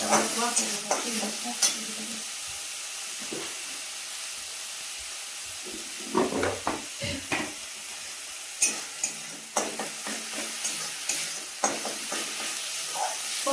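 Coconut masala fries in hot oil with a bright hiss and sizzle, and a spoon scrapes and stirs the pan in sharp, irregular knocks throughout. No one speaks.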